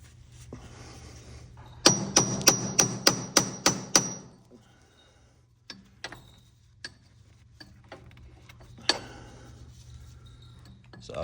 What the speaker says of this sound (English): I'm moving to a chisel